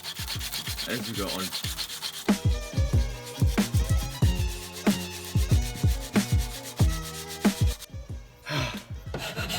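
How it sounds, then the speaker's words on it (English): A wooden knife handle is sanded by hand in repeated, rhythmic rubbing strokes, close and fairly loud, while a voice speaks briefly over the scraping. "As you're sanding the handle down, get it smooth-ish."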